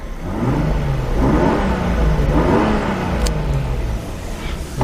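A 1991 Toyota Soarer 2.5GT-T twin-turbo engine is blipped a couple of times, revs rising and falling in two smooth swells over a steady idle, close and loud, with no talking.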